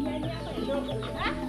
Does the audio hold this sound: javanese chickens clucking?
yes